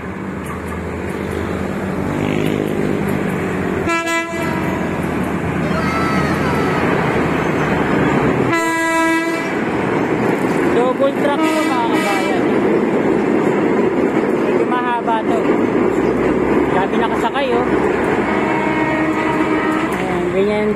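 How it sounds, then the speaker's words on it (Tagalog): A Philippine National Railways train approaching from Santa Mesa station along a right-of-way, its rumble steady and fairly loud, mixed with passing road traffic and a couple of sharp horn-like blasts. "merong train uli na galing ng Santa Mesa"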